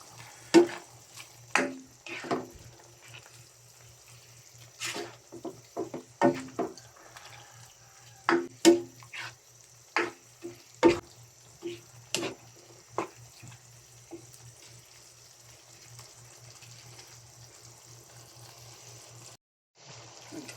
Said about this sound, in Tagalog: Haluin lang natin. Haluin natin.